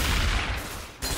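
Rapid gunfire bursts in Left 4 Dead 2, dense overlapping shots forming a loud fusillade that breaks off briefly before resuming.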